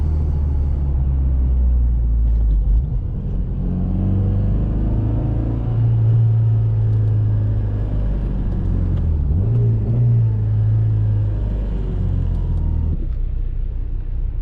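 A 2007 Honda Civic Si engine with about 200,000 miles rumbles steadily at close range, its pitch rising and falling as it revs, with no talking.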